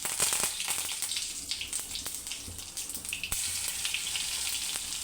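Mustard seeds, cumin and curry leaves sizzle hard in hot oil for a dry potato bhaji, a loud, steady frying hiss with scattered sharp pops and crackles throughout.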